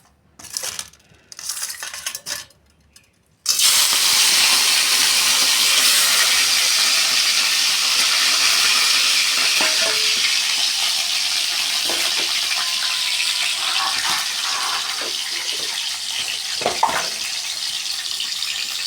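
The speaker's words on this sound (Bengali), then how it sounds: "এবার এই কড়াইয়ের মধ্যে আমি এই ক্যাংড়াগুলোকে" Crabs dropped into very hot oil in a wok, a loud sudden hiss that bursts in after a few quiet clatters and then holds as a dense, steady sizzle with occasional pops.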